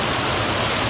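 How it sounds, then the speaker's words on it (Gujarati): Rain falls in a village, a dense, loud, even hiss with no breaks or voices over the brief moment. "તો વરસાદ છે"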